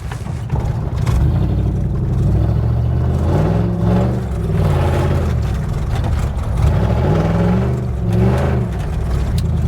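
A Toyota Hilux engine pulls steadily while driving along a dirt road, a loud, continuous low drone with rising and falling revs throughout.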